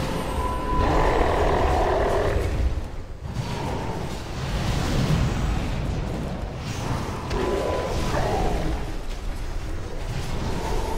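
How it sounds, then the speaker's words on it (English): A deep, growling roar from twin Ogron bosses in a sanctuary raid in a video game, sustained and rumbling, rising and falling across several seconds with no talking. "Enfeebling roar and pulverize at the same time."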